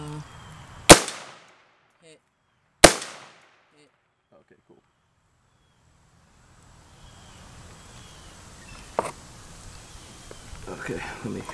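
A Lead Star Grunt III air rifle fires at outdoor targets: two sharp, loud reports about two seconds apart, then a fainter shot later, amid quiet outdoor ambience and some background noise.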